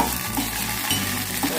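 Onion and curry leaves crackle in hot oil for a tempering in a pot for a cashew curry, a brief, dense, close sizzle with soft stirring noises.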